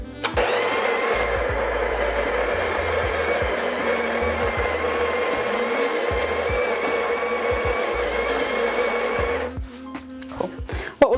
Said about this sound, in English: I'm going to grind the coffee into that